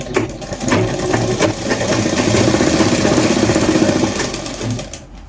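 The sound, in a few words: sewing machine stitching elastic on churidar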